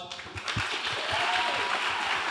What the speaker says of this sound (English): can we give them first a quick round of applause?